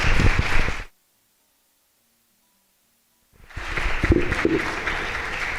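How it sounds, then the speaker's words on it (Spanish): A lecture audience claps for a speaker on the 1808 autonomist attempt in New Spain, one short burst of applause, a sudden stretch of dead silence, then the clapping resumes and carries on. "Lo recibimos con un aplauso"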